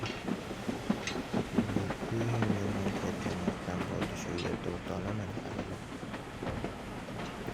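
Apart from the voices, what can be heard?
train running on rails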